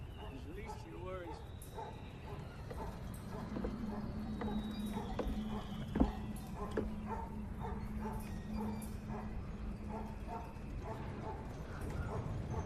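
A dog barks and yips faintly in a movie scene, the short barks and whimpers sitting low in the mix beneath voices and a steady background bed.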